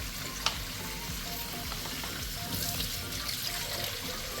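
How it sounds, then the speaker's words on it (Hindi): Cold water pours over a hot pressure cooker that has just finished steaming a fish yakhni, raising a steady, loud hiss and sizzle with running-water splashing, alone and continuous throughout. "अब हम इसके ऊपर ठंडा पानी डालकर"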